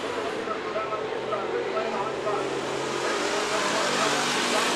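Race cars running side by side at an Antioch Speedway heat race, a steady loud engine roar filling the clip and swelling slightly toward the end.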